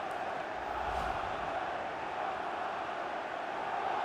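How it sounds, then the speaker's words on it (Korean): Steady, dense crowd roar from fans cheering in a FIFA 22 football match, Manchester City vs Liverpool, sustained and even throughout. "팬들이 환호를 보내고 있습니다."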